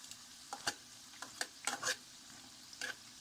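Food sizzles and fries in a pan with several sharp scraping, flipping bursts of spatula contact, loud and close with quiet sizzle between, no talking.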